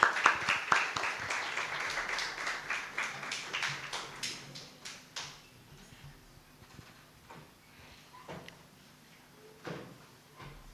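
An audience claps for a judge at a national secondary schools moot court competition, the applause loudest at first and thinning into scattered, fainter claps that taper off over several seconds.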